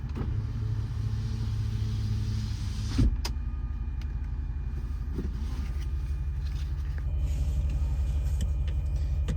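A 2024 Ford F550 mechanics truck engine idles after remote start with a steady low rumble throughout, with a brief mechanical click early on and no voices.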